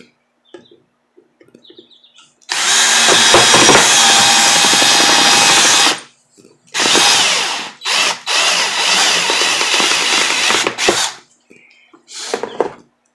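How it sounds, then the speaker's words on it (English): A loud power drill whirs in several long bursts, drilling holes in plant pots, starting and stopping, close up, with brief quiet gaps and faint bird chirps between. "I just may as well drill them all right now at the same time and be done with it"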